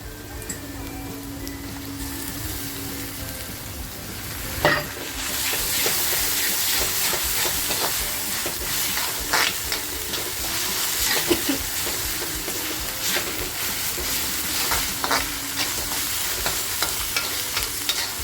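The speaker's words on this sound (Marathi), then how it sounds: "मग आपला मसाला सुद्धा आता छान फ्राय झालाय" Onion masala with ginger, garlic, coriander and chili paste fries in a pan for a Karandi small-prawn masala, a loud continuous sizzle that swells after a sharp clatter, with scraping stirs and faint talk beneath.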